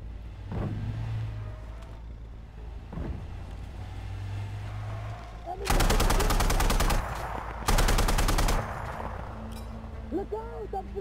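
Bursts of automatic gunfire in the military shooter game Insurgency: Sandstorm, two loud sustained volleys standing out over a low rumbling battlefield background, with brief voices calling out around them.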